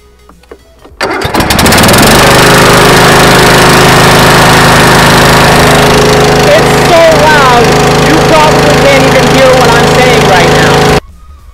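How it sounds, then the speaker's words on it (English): A straight-piped single-cylinder 22-horsepower engine, likely a mower engine, catches after about a second and runs loud and steady at a high, raw, rough idle, filling the clip close to the mic before cutting off near the end. "might as well hear the straight piped one cylinder engine, right?"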